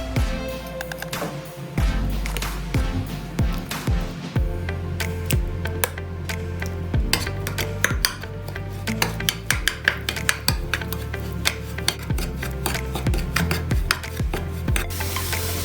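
Beetroot paste is worked into puttu rice flour by hand or spoon, giving a steady run of close, scratchy rubbing and stirring against a bowl, with scattered light clinks and no talk.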